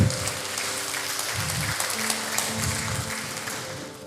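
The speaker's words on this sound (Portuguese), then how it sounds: "Aplauda o Senhor." Church congregation applauding during a sermon: steady, moderately loud clapping that continues throughout over sustained low instrumental tones.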